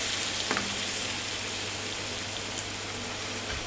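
Agnolotti ravioli fry in browned, nutty butter in a pan, giving a close, even crackling sizzle with a few soft pops and bumps over the hiss.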